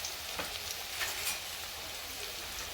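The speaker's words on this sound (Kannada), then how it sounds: "ಈರುಳ್ಳಿ ಹಾಕ್ಕೊಂಡು ಚೆನ್ನಾಗಿ ಹುರ್ಕೊಳ್ಳಿ" Onions fry in oil in a pan with a faint, continuous crackling sizzle and small pops, low in level and steady throughout the short stretch.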